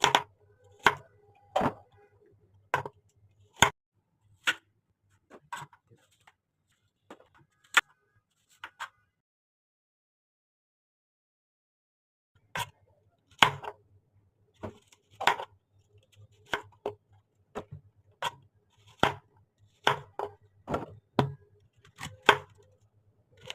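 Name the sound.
cutting apples on a board with a knife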